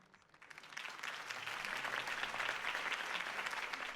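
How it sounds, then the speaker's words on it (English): Steady applause from a crowd in a Batman video game, swelling quickly after a quiet start and holding at a full, dense clatter of many hands. "could have heard that applause"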